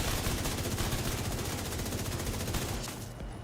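A full magazine of roughly fifty rounds empties in rapid, continuous automatic fire in The Division 2, loud and dense, ending abruptly near the close.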